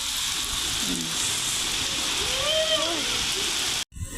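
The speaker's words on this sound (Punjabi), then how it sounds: "ਠੰਡੀ ਠੰਡੀ ਬਾਰਿਸ਼ ਹੁੰਦੀ" Heavy rain hisses steadily close by during a storm in a village, with a voice speaking briefly over it before a short cut near the end.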